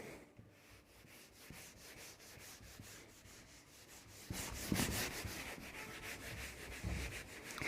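A board duster rubs writing off a classroom board during a physics lesson: steady, scratchy back-and-forth scrubbing strokes that grow louder and denser midway, with no talking.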